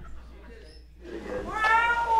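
After a quiet start, a voice imitates a cat, letting out a drawn-out, rising meow that swells near the end.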